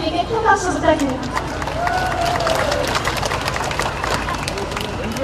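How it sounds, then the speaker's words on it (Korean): An audience at a political rally applauding an honoured guest, a loud sustained wash of clapping and crowd noise mixed with a host's amplified voice. "우리 황성화 집배님에게 큰 박수 부탁드립니다."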